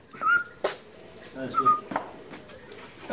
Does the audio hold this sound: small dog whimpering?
yes